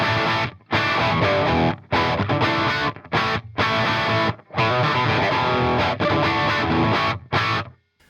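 Heavily distorted electric guitar through a Peavey Windsor tube amp on its high-gain channel, controls near noon, playing a loud, dense classic-rock riff broken by several short stops and ending with a fade.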